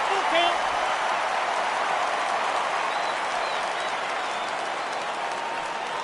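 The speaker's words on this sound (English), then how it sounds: "Crowd gets up for the 3-2." Steady, loud crowd roar with sustained applause and cheering in an MLB The Show baseball video game, filling the whole stretch without letup as fans rise for a full count.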